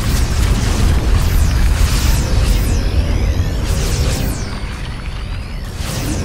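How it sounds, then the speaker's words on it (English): Lava surge eruption in StarCraft 2: a loud, continuous roaring rumble with repeated whooshing sweeps and booming bursts, dense low end throughout, fading slightly toward the end. "Lava surge imminent. Evacuate low ground immediately."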